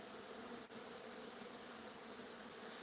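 Bees buzz and fly around close by, a faint, steady, continuous drone with no voices.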